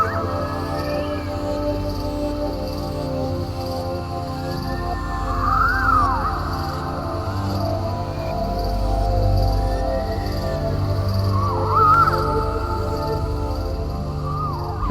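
Birds calling amid the trees and bushes of a botanical garden planted with indigenous species, with scattered whistled and cawing calls over a steady hum of insects and ambient noise, some calls near and others distant.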